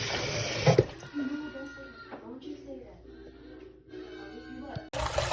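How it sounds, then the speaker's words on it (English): Water poured off a cooking pot of beef and pig's tail for Jamaican red peas soup, a splashing gush at the start and again at the end, with someone talking over quieter kitchen sounds in between. "Okay, so I'm actually pouring this water off."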